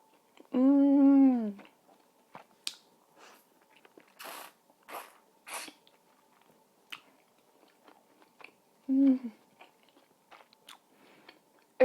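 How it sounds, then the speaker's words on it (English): Someone eating juicy handmade chive dumplings up close, with soft bites, chewing and brief slurps between quiet pauses; a couple of short voiced sounds also occur. "I'm sure you could hear that I was trying to suck up the juice"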